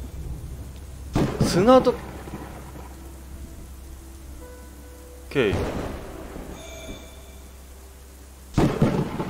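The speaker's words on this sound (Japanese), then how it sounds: "雷が邪魔だな" Thunder rolls and rain in the Moncage puzzle game: three loud rumbling bursts rise over a steady hiss of rainfall, with a voice speaking briefly.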